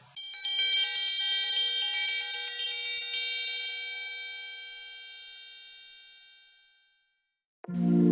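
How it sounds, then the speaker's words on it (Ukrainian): A triangle struck repeatedly with a bright metallic ring that then sustains and slowly fades over several seconds, followed by a brief low noise at the end. "Трикутник."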